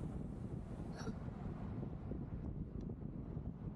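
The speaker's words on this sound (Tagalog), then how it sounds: "Grabe ang hangin dito." Wind buffets the microphone in a low, constant rumble, with a brief faint squeak partway through.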